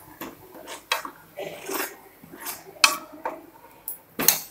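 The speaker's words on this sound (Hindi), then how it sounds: "अब इसमें हम कसूरी मेथी डालेंगे, इसे मिक्स करेंगे अच्छे।" A metal spoon stirs dried fenugreek leaves into cooked masala in a pan for rajma, giving close scraping strokes and irregular clinks against the pan.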